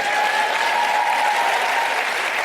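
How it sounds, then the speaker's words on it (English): Audience claps through a live conversation event, a steady, loud, dense burst of applause filling the whole short stretch with a faint tonal hum underneath. "So he's supposed to clap right there"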